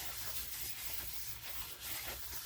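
Brake cleaner hisses in a steady broadband spray onto a new front brake rotor of a 2011 Ford Fusion, continuous and close for a couple of seconds with slight pulsing, no talk.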